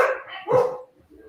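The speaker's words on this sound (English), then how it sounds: "There's dog. my dog." A dog barks a couple of times nearby, short sharp yaps with a brief pause, fairly loud and alone.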